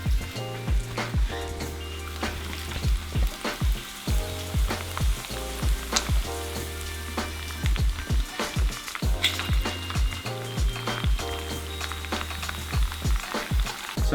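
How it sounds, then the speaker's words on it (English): Bacon with jalapeno and onion sizzles steadily in a pan, a close, continuous crackling fry punctuated by repeated scraping and stirring clatters, with no talk. "We're gonna add the jalapeno and onion to this bacon and start to cook it down."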